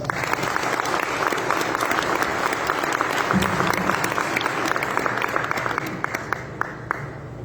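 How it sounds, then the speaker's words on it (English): A large crowd applauds loudly and steadily, a thick sustained wash of clapping that thins slightly toward the end. "So let's give these guys a round of applause."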